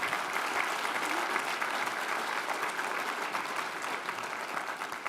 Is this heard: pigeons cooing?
no